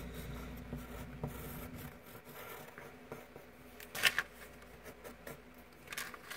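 A pencil scratching and rubbing on paper while sketching a custom character, soft irregular strokes close by, with a brief louder scrape partway through and no talk.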